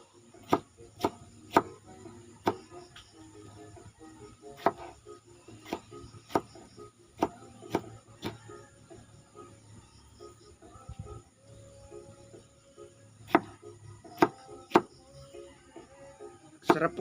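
A knife chops tomatoes on a cutting board in a home kitchen, sharp isolated knocks in irregular clusters, close and clear against quiet background hum.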